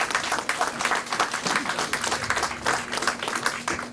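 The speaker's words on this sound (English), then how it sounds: "So once again, give yourself a round of applause." Campaign volunteers at a Calgary by-election rally clap for themselves, a lively round of close, uneven handclaps with individual slaps standing out and a faint hum beneath.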